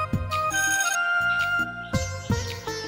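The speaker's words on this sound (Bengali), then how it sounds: "দাঁড়াও একটু বাইরে থেকে কল আসছে আমার" A mobile phone rings with an incoming call, playing a melodic electronic ringtone of repeated tonal phrases, loud and close, with no talking over it.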